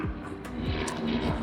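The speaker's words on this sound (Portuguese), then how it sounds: "Desculpem o barulho aqui do helicóptero" A helicopter passes overhead during a church testimony segment, a loud, steady engine and rotor drone with slowly sweeping tones, continuous throughout with no talking.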